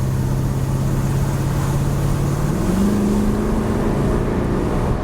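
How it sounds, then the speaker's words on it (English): A Mercedes 500SEC cruises along the motorway with a steady, smooth engine hum and a low drone that rises slightly partway through, wrapped in constant road and wind noise, with no talk. "Just cruising down the motorway"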